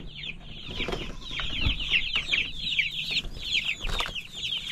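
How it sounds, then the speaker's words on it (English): Chicks being let out of an enclosure, a dense chorus of high peeping cheeps and clucks with some low thumps, close and continuous, without speech. "So them chicks that want out of here so bad"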